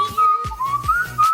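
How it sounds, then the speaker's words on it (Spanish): A person whistles a short, clear tune of several sliding notes, close and loud, with no other sounds. "El de silbar."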